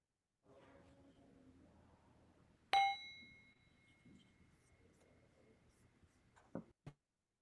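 A mindfulness bell struck once at a prayer vigil rings out clearly and decays with a long sustained tone, while soft murmurs sit underneath and a few faint knocks come near the end.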